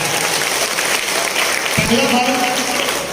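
Audience clapping at a seminar, broad continuous clapping with a brief low thump partway through and faint voices mixed in.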